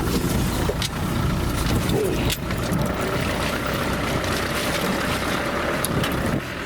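A 1968 Land Rover Series IIB Forward Control 110 drives over bumpy ground, its engine laboring in a loud, continuous rumble mixed with rattles and wind buffeting, with no speech.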